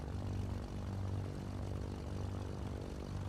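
Right engine of a Cessna 310R running steadily in a flight simulator just after start-up, a continuous low propeller drone with a fairly constant level, no talk.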